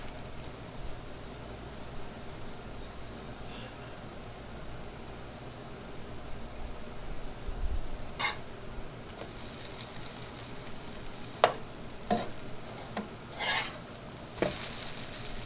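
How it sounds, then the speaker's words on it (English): French toast sizzling and frying in a pan for a homemade breakfast, a steady soft crackle and hiss throughout with a few louder pops and scrapes near the end, close by and with no talk. "So now we're going to cook this on this side for probably about 2 to 3 minutes."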